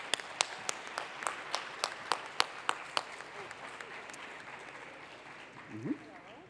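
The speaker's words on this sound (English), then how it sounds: "Give them a round of applause." Applause for students at a Women in Data Science forum, led by a distinct close clapper with sharp regular claps and lighter crowd clapping behind, fading out before a voice speaks at the end.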